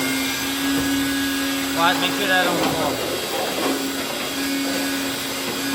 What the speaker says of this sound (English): Vacuum everything out, clean it all up